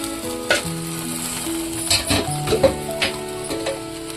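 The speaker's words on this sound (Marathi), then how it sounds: "थोडंसं तेल टाकू, त्यामध्ये मिरची टाकू। मिरची हलवून घेऊ" Green chilies frying in oil beside okra in a fasting-style okra dish give off a steady close sizzle, broken by several sharp scraping clinks as the pan is stirred.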